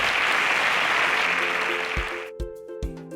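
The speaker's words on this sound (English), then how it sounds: "Please, a round of applause for Blossom as she exits the stage" Studio audience applause on the InterswitchSPAK Nigeria quiz show as contestant Blossom leaves the stage, a dense burst of clapping that cuts off abruptly, followed by a few booming music hits with tonal tails.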